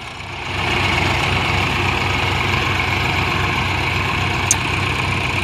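A Swaraj or Mahindra tractor engine runs at 1000 RPM during a reverse speed test, giving a steady, loud, low diesel drone that holds evenly throughout, with one brief click near the end.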